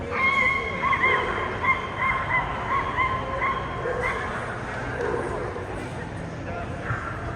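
Several Pomeranian dogs yip and bark in short bursts at a dog show, sharp and fairly close, over a murmur of crowd chatter and someone talking.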